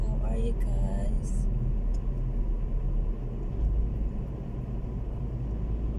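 A car drives along a road in New Zealand, its steady low engine and road rumble running continuously throughout, with a voice speaking over it early on.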